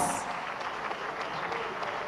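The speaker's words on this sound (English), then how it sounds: "Please can we applaud the future of Lagos and indeed the future of Nigeria" Summit audience in Lagos, Nigeria applauding, a dense steady wash of clapping at moderate level for the full two seconds, with no voice on top.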